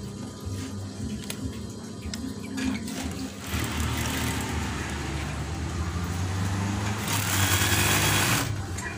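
Sewing machine running steadily as it stitches the bottom hem of an eyelet curtain, a close, continuous mechanical whir with slight shifts in speed and no talking.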